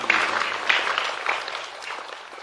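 An audience at a religious lecture gives a burst of applause, a dense wash of clapping that starts strongly and slowly tapers off over a few seconds, with no talking.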